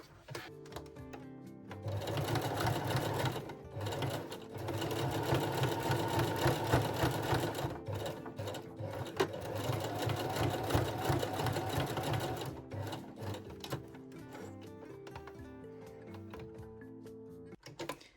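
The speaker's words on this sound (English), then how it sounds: "I am sewing forward, backward, and forward again" A sewing machine runs a lingerie seam in a busy mechanical chatter, sewing forward, then backward, then forward again, with brief pauses between the bursts.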